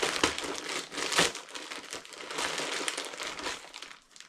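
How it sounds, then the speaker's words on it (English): Poly bag and brown paper crinkle and crumple steadily as a pair of boots is unwrapped, a close and fairly loud rustling that goes on throughout with no talk. "You've got poly bag there, and then some nice fancy brown paper."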